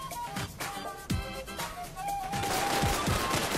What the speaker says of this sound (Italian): questa pistola va usata senza mirare. Se no spari lento.